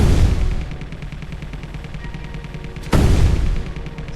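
A ship-mounted gun fires in Space Engineers, two heavy booming blasts several seconds apart, each followed by a rapid rattle of repeated shots and a rumbling tail.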